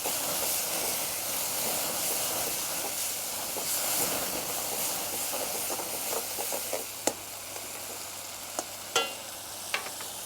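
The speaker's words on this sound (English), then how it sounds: "In that high heat, the garlic is going to cook beautifully." Garlic sizzles hard in a very hot pan for a curry, a steady, dense frying hiss throughout. A few sharp clicks and stirring knocks rise out of it toward the end.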